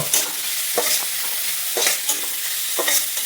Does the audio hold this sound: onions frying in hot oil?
yes